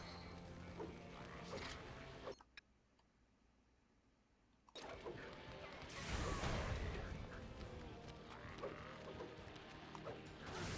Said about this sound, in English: Crank the bolts to stop tyrannoids from entering the arena